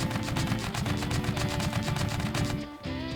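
Rapid, loud bursts of gunfire pour from a potato-firing Gatling tank in Scrap Mechanic during a test run, a steady rattling stream of shots that briefly dips near the end before resuming.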